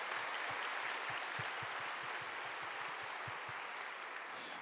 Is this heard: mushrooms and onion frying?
no